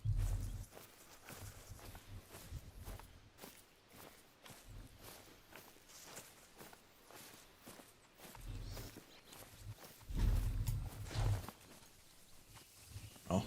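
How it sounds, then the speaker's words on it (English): A pet dog walks around indoors while The Hunter: Call of the Wild plays, its soft, irregular thudding steps sounding near but faint, with a brief heavier cluster of steps partway through. "I was gonna say I heard footsteps, but it was my dog."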